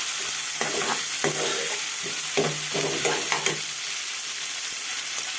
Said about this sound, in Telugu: ఉల్లిపాయ ముక్కలు బాగా వేగిపోయి దోసకాయ ముక్కలు, ములక్కాడ ముక్కలు వేసుకుందాం.